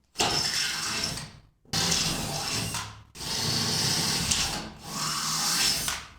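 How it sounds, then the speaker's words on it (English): Four bursts of steady, grinding power-tool drilling through steel garage door opener track with a 5/16 bit, each lasting over a second with short pauses between, loud and close. "So now I'm going to go through and drill everything with the 5/16."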